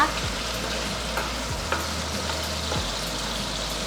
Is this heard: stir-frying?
yes